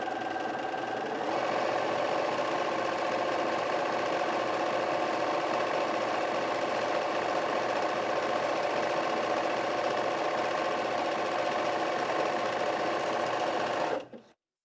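A Bernina 350 sewing machine stitches in a fast, steady mechanical whir that stays loud and even for most of the stretch, then cuts off abruptly near the end.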